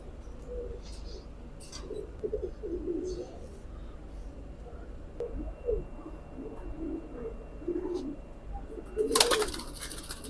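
A pair of caged pigeons coo in soft, repeated throaty bursts at close range, with a brief flutter near the end and faint background noise.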